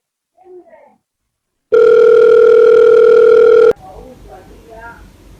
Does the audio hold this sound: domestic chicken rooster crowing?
no